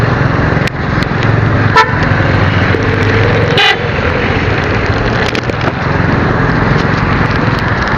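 Dense road traffic rumbles steadily and loudly throughout, with several car horn toots cutting through the engine noise.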